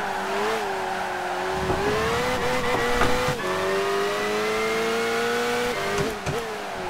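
A high-revving Opel race car engine in Gran Turismo 5 on the London circuit, a steady loud whine that rises and dips with gear changes, with brief tyre scrubs and a few clicks, no talk.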